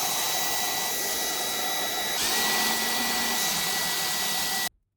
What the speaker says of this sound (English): Firstly, I want to get all the debris out. So I stole Jodie's vacuum cleaner.